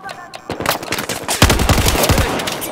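Machine gun fire in the video game Propaganda Chain Link: loud, close, rapid bursts of automatic shots with sharp repeated cracks, rattling on continuously over the clip.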